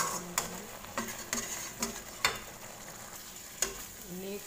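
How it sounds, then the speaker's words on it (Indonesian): Clams with spices being stirred in a frying pan give a soft, continuous sizzle broken by repeated scraping strokes of a utensil against the pan, several distinct scrapes at irregular intervals. "Ini kita aduk biar matang ya teman-teman, biar sedikit mengering."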